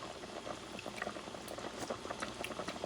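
Puerto Rican style bison stew simmering in a pot, a soft continuous bubbling with scattered small pops, close but quiet, with no voices.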